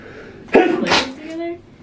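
Amid conversation on a reality show, a single close, sharp sneeze bursts out, followed by a brief exhale, with voices continuing around it.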